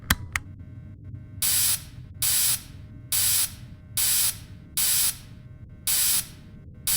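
Cleaning liquid sprayed onto an animatronic suit in the video game Fredbear and Friends: Left to Rot, six evenly spaced hissing spray bursts, each about half a second long, over a low mechanical hum.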